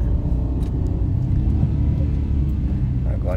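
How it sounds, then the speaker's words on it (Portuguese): A loud, close car engine roars steadily in a rumbling revving drone as the clutch is pressed during a gear change with the accelerator still down. "O carro gritou a hora que ela pisou na embreagem, porque não soltou o acelerador."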